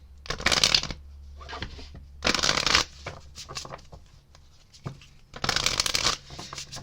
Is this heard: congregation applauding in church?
no